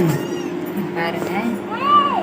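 A cat meows in a couple of rising-and-falling calls, one mid-clip and a longer, clearer one near the end, heard over steady background hum and household noise.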